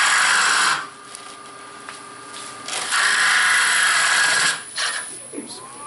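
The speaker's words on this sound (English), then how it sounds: "Remember, it's on the high-speed lathe." A gouge cuts a wooden bowl spinning on a high-speed lathe, giving a loud, close scraping hiss that comes in bursts and drops away between passes, with no talk.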